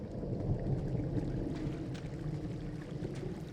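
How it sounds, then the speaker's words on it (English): Thunder rumbles low and steady in the Firewatch game, a continuous deep roll mixed with rain-like hiss and no speech. "I heard some thunder"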